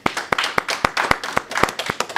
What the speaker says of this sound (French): Anne-Marie et Micheline, on peut les applaudir déjà